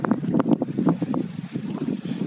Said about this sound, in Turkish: Hava rüzgarlı bugün.